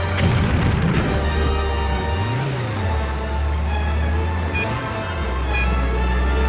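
Explosion in the PS2 stunt-driving game Stuntman, a deep rumbling boom layered over a droning car engine whose pitch sweeps up and down twice, loud and continuous with no talking.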